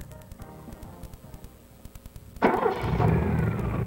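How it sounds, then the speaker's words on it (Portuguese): An Opel Kadett GSi engine with multipoint fuel injection cranks and catches partway through, going from a low idle-like hum to a louder, rougher run. "Agora, dê partida no motor."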